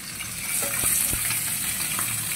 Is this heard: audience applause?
no